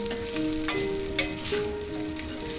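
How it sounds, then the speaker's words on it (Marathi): Maharashtrian-style sabudana khichdi stir-fried in a pan, with a steady sizzle and occasional scraping strokes of a spatula, close and fairly loud. "यामध्ये 5 मिनिटं आपल्याला असं परतून घ्यायचं आहे."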